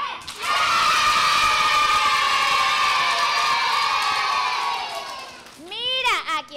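Children in Isabela let out a long, loud collective shout that holds steady for several seconds, then fades as an adult voice takes over.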